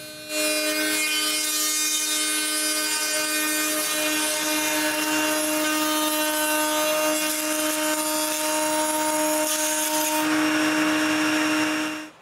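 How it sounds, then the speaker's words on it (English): A woodworking router cutting a rabbet along the bottom of wooden whiteboard frames, a loud steady high-pitched whine with strong tonal hum and rough cutting noise, running continuously before stopping at the end. "I have to cut a rabbet at the bottom of the frames."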